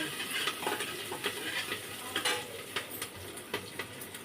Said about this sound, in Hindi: हमारे प्याज और मिर्ची देखो भुन गए हैं, प्याज मिर्ची भुन गए हैं।